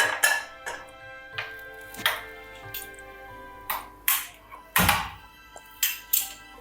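A kadai being handled on a stovetop before sugar is caramelized for a Christmas plum cake, giving a series of sharp metallic clanks and knocks at irregular intervals, close and fairly loud, with no talking.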